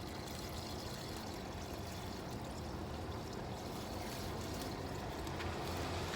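Water pours steadily and softly into a cooking pot for rice, a continuous faint splashing rush at a makeshift roadside camp cook.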